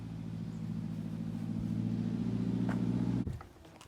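A BMW car rolls up nearby, its engine rumbling steadily and slightly louder before it cuts off abruptly near the end.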